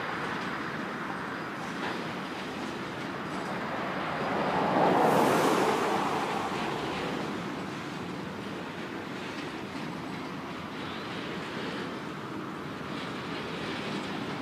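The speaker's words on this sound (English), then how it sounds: "The CSX manifest in the backdrop is on the move again" A CSX manifest freight train rolls past in the distance, giving a steady broad rumble and hiss that swells briefly, then holds level throughout without voices.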